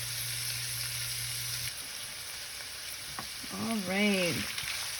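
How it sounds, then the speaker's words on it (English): Onions frying and slowly caramelizing in a Dutch oven for a beer-style stew, a steady soft sizzle throughout with a brief voiced sound near the end. "those onions are nice and soft, and they're definitely starting to caramelize"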